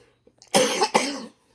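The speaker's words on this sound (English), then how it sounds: "Sorry about the coughing" A person coughing from allergies, two quick harsh coughs close to the microphone in an otherwise quiet room.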